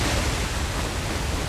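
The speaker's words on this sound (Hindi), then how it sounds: "लगता है पानी गिरने की आवाज है ये।" Falling water in the video game Uncharted: The Lost Legacy, a steady broadband rush like a waterfall, even and continuous throughout with no talk.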